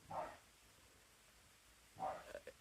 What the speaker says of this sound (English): Yeah, that is my dog.